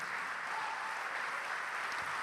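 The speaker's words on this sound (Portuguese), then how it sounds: "Vamos aplaudir ao Senhor então." A church congregation applauds during a sermon, a steady dense wash of clapping that holds at even loudness throughout, with no voices rising above it.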